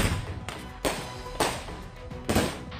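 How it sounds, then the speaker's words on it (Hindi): Firecrackers exploding inside a burning truck in Ohio go off in several sharp, loud bangs at irregular intervals, each followed by a brief decaying rumble. "आसमान में रंग बिखरे पटाखे तेज आवाज के साथ फूट रहे हैं।"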